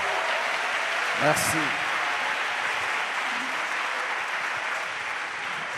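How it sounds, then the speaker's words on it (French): A church congregation claps in praise during a French-language service, a steady wash of applause filling the room while a voice speaks briefly over it. "Offrande d'acclamation. Clap of praise."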